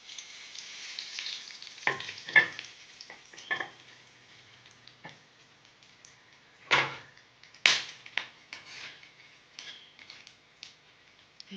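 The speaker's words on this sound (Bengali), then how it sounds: "এইবারে কড়ায় তেল দিয়েছি। তেলটা আছে ওই পটলের তেল, তার মধ্যে দুটো তেজপাতা দিয়ে দেবো, আর একটু গোটা জিরে আর গোটা গরম মশলা সেটাও দিয়ে দেবো।" Bay leaves, whole cumin and whole garam masala crackle in hot oil in a kadai, giving soft intermittent sizzles broken by several sharp spatters and stirring clatters.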